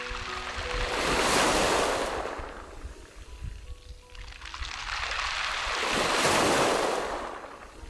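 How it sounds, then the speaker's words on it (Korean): Waves roll in over a beach of rounded pebbles on a Korean island shore, two big surging swells rising and falling with a rushing, rattling wash of stones between them, near and fairly loud. "오랜 세월 파도가 빚어낸 동글동글한 몽돌들이 서로 부딪히며 맑은 소리를 들려줍니다."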